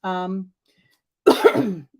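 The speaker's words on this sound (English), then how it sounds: "I apologize for any coughing or anything" A short voiced sound, then a pause, then a single harsh cough burst up close from someone recovering from a sinus infection.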